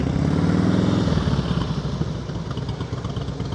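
Motorcycle engine during slow-speed riding skills practice, a steady close mid-pitched rumble with slight clatter that eases as the revs drop, no talking.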